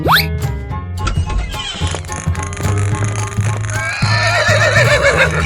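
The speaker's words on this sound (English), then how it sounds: "Horse." Horse neighs in a 3D animal video game, a rising whinny up front over looping game music with steady beats and chimes, later followed by more cartoonish squeals.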